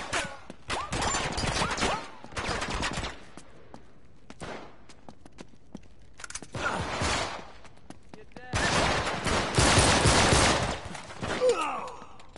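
Pistol gunfire in the action game Uncharted 3, fast clusters of loud close shots in several separated bursts, with quieter gaps of footsteps and movement between them and a voice speaking at times.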